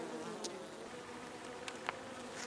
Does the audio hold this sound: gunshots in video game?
no